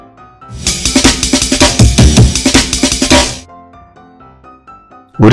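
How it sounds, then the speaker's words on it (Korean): Drum played in a children's science lesson on sound, a fast run of loud, evenly spaced hits over a musical backing, then the beating stops and soft music carries on. "드럼"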